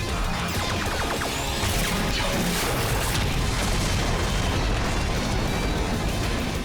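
Beetle Cannon blast from the Power Rangers Samurai series: a loud, sustained explosive roar with crashing bursts filling the whole span, dense and continuous without speech.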